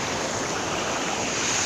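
Small river, the Río Quexis near Aldea San Ramón in Santa Cruz Barillas, flowing with a steady, broadband rushing wash close to the microphone, continuous and unbroken with no voices.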